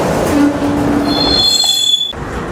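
Train cars roll past nearby in a rail yard in Mobile, Alabama, with a loud rumble and high metallic wheel squeals; no voices.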